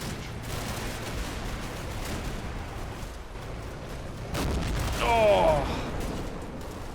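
Mortars fire in a World War II British last-stand video game battle, dull distant thumps and explosions rolling under constant battle noise, with a brief voice exclamation.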